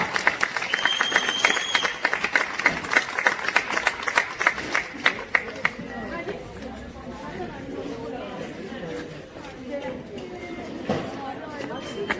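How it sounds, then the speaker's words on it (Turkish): Guests at a neighbour's wedding clap for the family in a burst of close, sharp applause that fades after about six seconds into crowd chatter and nearby talking. "Kocaman bir alkış bekliyoruz efendim ailesine"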